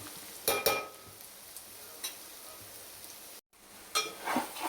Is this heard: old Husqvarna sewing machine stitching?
no